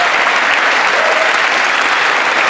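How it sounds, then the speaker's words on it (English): Loud, dense audience applause at a political speech, steady unbroken clapping filling the whole moment without a break. "What are they clapping for?"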